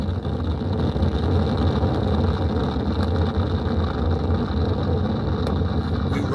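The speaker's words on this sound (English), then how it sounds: "Boosters in ignition. And liftoff of Artemis 1." Artemis 1 lifts off as its solid rocket boosters and RS-25 core-stage engines fire, producing a loud, continuous, deep roar that rumbles without a break, with no talking heard over it.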